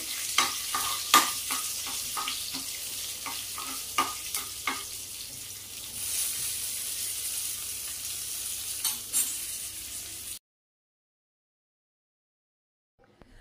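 Cut green chillies roasting in a pan, a soft sizzle with scattered stirring clicks for about ten seconds, then near silence.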